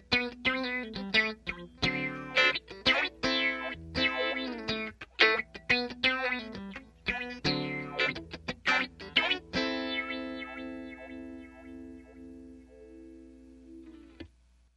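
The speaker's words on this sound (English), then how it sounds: "the pedal is allowing you to modulate the phase manually using the swing just like you would a volume or a wah pedal." Electric guitar through an Electro-Harmonix Stereo Polyphase phaser swept by hand with an expression pedal, giving a slowly moving phase tone over sharp picked chords that ring out and decay near the end, with no one speaking.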